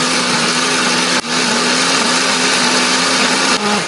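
A loud electric blender grinds candlenuts, garlic, shallots and turmeric, producing a constant high-pitched whirring roar with a couple of brief dips in motor speed.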